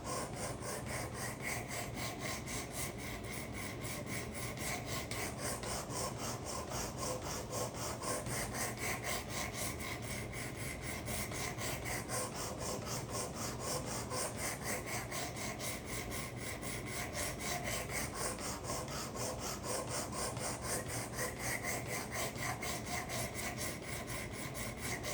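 A karambit blade is worked back and forth on a sharpening system, a steady rhythmic rasping scrape of rapid strokes sustained at an even close level, with slow swells in the grind.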